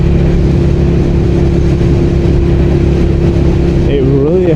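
A motorcycle engine while riding gives a loud, steady drone mixed with rushing wind, with a man briefly starting to talk near the end.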